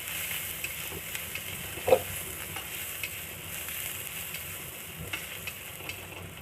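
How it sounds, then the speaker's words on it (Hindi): Garlic fries in oil for a dal tadka, sizzling and crackling steadily in a pan, with small pops and a few faint clinks of stirring, no voices. "हमारा गार्लिक भून चुका है।"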